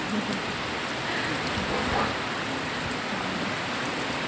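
Heavy rain falls steadily outdoors, a dense unbroken hiss that stays loud and even throughout with no voices over it.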